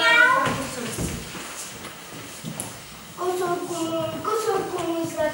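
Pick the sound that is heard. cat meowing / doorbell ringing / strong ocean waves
cat meowing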